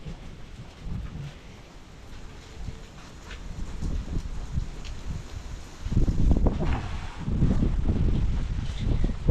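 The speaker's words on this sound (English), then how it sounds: "It is just another morning, and there is much of the wind, and also much of the cold." Strong wind gusting outdoors on a cold morning, a steady low roar that swells louder and rougher in the second half, buffeting the microphone with no talk.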